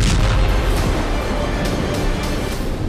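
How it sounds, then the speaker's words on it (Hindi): A heavy explosion from an attack in Sumy, Ukraine, fills the clip with a loud, continuous roaring rumble and no voices. "सोमवार को सूमी में यह जोरदार धमाका हुआ"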